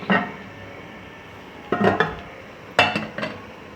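Metal clinks as a lid is set onto a cooking pot of beef yakhni pulao: a single clatter, then a cluster of clanks, and a final pair of rattling knocks, close and moderately loud.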